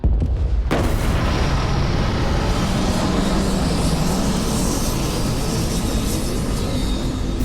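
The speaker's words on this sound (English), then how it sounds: "Beginning landing cycle." A spaceship touches down in the sci-fi game Starfield: a sudden loud roar of engine thrust kicks in after a brief lead-in and holds steady, a dense rumbling wash of noise continuing throughout.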